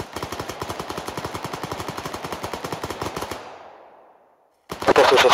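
Rapid, steady machine-gun fire rattles for several seconds, fades into a brief silence, then another loud burst erupts.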